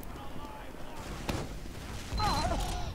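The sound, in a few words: sticky bomb jumping explosions in video game Team Fortress 2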